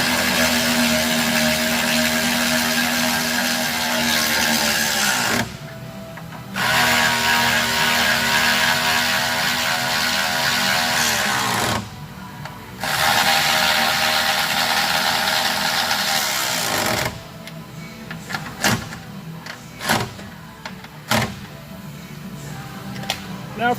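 Power tool tightens the top nut on a Koni strut during a Subaru GC Impreza suspension install, a loud steady whirring drone that stops and restarts twice, followed by shorter bursts and clicks.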